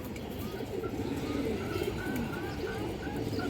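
Soft pigeon coos rise and fall over a steady low rumble of background noise, with faint chirps scattered throughout.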